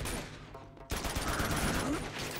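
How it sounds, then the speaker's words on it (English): Rapid gunfire in the video game Uncharted 2: Among Thieves, a sudden loud burst of sustained shooting that cuts in after a quieter stretch of game ambience and keeps going to the end. "Just keep shooting!"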